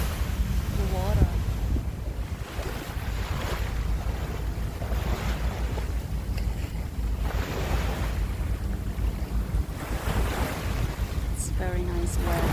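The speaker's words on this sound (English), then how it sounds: "Splashing wave water." Waves break and splash continuously against the rocky sea cliff at Labrador Park in Singapore, a loud, rolling surf with heavy wind buffeting the microphone and occasional voices.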